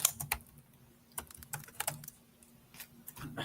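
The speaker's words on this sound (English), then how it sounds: "Aggressively typing." Fast, hard typing on a computer keyboard, a close run of sharp key clacks in irregular bursts with short pauses, fairly quiet and with no talk over it.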